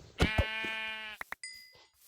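A sheep in a hardcore-mode video game lets out a single clear, wavering bleat lasting about a second, followed by a few short clicks and a faint electronic ding.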